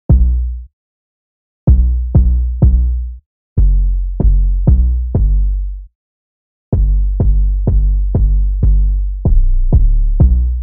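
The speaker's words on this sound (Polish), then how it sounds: "Następnie dodałem 808 i kick." An 808 bass with kick drum in an FL Studio trap beat thumps in loud, deep booming hits, some in quick groups of two and three, each tail decaying before short silent gaps.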